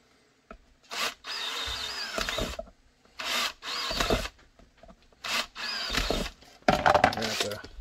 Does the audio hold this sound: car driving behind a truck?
no